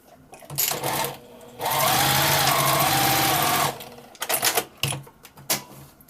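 A sewing machine stitching scrappy log cabin quilt block pieces: short bursts of rapid mechanical whirring, then one long sustained run, close and loud, with handling noises between runs.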